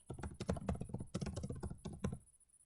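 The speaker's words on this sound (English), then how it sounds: "then just start typing" Rapid clattering keystrokes on a computer keyboard, close and steady for about two seconds before trailing off into quiet.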